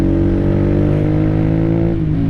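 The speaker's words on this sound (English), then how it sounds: "very nice sounding bike" A 2017 Honda CBR125R motorcycle with about 15,000 miles runs as a steady, close, loud single-cylinder drone, its tone dipping slightly near the end.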